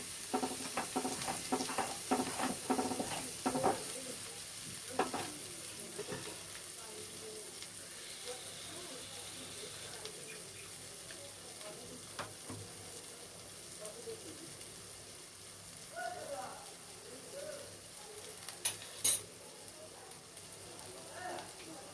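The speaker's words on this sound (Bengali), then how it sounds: "মশলাটা ভালো করে কষতে থাকবো।" Spices frying and being stirred for butter chicken, a soft steady sizzle with scraping stirs and clinks, busier in the opening seconds and then settling into a low continuous crackle.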